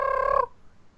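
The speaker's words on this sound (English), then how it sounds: "So if you hear that outside your window, it's probably ducks fucking." A short, loud nasal honking burst from a duck's mating call played back on a device, lasting under half a second before cutting off to near silence.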